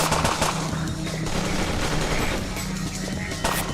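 Rapid automatic gunfire in a police shootout in inFamous 2, a loud continuous rattle of overlapping shots with dense, steady bursts throughout.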